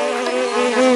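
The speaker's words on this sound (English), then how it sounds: "You certainly do bring a lot of buzz" A fly in a children's animated story buzzes in a steady, close, loud drone with a slight wavering pitch throughout, heard alone without talk.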